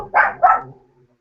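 A dog gives two quick, close barks about a third of a second apart, loud and clear, then the sound trails off into quiet.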